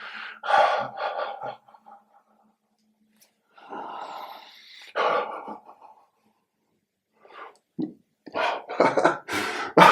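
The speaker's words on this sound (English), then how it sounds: "do a steady inhale and butterfly on the exhale, where you get this kind of fluttering on the exhale" Steady inhale followed by a fluttering, butterfly-style exhale in a breathing exercise, close and breathy, repeated in several bursts separated by silent pauses.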